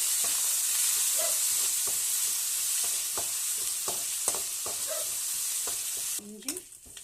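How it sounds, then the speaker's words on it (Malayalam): Crushed ginger and garlic sauté in oil for a fish curry, giving a steady close sizzle and hiss punctuated by regular light clinks of a stirring spoon against the pan. "എണ്ണയിലിട്ട് വഴറ്റണം."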